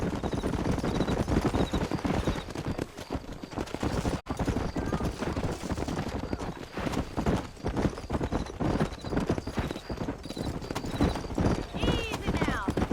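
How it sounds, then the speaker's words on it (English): Horses gallop in the video game Red Dead Redemption, a rapid, continuous drumming of hooves close by, with a brief neigh near the end and voices talking over the hoofbeats throughout. "These are fine horses."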